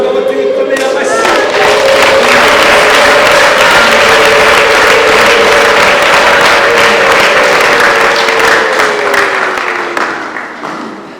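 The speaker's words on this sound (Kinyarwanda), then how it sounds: "abagabo tuyikomera amashyi" A church congregation claps and cheers loudly and continuously, with a sustained ululating tone riding over the dense applause before it fades at the end.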